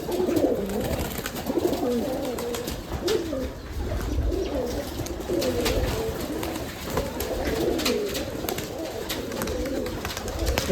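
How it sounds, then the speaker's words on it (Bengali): Giribaz pigeons coo repeatedly in soft, overlapping rumbles in a large loft, several birds calling at once close by with a faint airy background. "অসংখ্য কবুতর দেখুন অনেকগুলো কবুতর"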